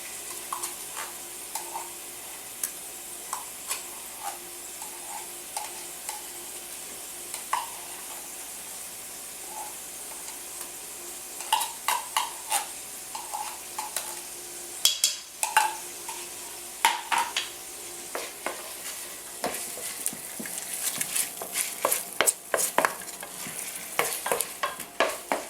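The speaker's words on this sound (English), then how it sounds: "I got 1 can of tomato paste. I'm going to go ahead and fry that a little bit also." Tomato paste fries in a pan with a steady low sizzle while a utensil stirs and scrapes, the scraping growing busier and louder toward the end.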